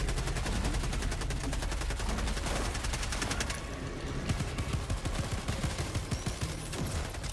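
Enemy gunfire in Helldivers 2 rattles continuously as a dense, steady barrage of overlapping shots with a brief dip in the middle. Close and loud throughout, with no talk over it.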